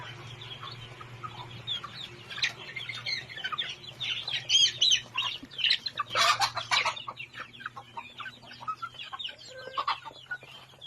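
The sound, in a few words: chickens clucking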